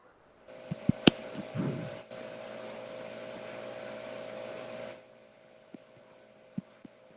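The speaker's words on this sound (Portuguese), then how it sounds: "Tipo de ventilador, sei lá, ar-condicionado." Fan or air conditioner running with a steady droning hum for a few seconds that then cuts off, preceded and followed by scattered clicks and knocks.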